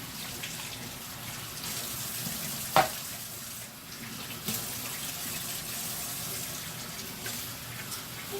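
Water from a running tap pours steadily over Keurig coffee maker parts as they are rinsed, a continuous hiss broken by a brief clunk of handled plastic near the middle.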